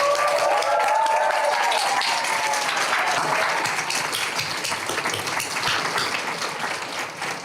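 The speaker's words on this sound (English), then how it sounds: "One more round of applause for all of our graduates today." A crowd at a creative writing graduate reading gives a loud, dense round of applause with a few whoops at the start. The clapping stays strong and then eases slightly toward the end.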